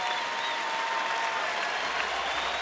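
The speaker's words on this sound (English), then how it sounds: "get a nice round of applause by the appreciative crowd here at Rangers ballpark" An appreciative crowd at Rangers Ballpark applauds steadily through a baseball game between the Astros and Rangers, a dense, even clapping that holds for a couple of seconds with faint crowd murmur.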